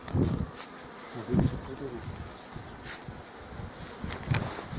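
A swarm of honey bees buzzing near an apiary, a dense continuous drone close by with occasional thumps and handling noises, and faint voices in the background.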